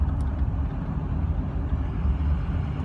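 Ford 6.0 diesel pickup truck engine idling quietly, a low steady rumble close by with no notable rev changes, continuous and even throughout.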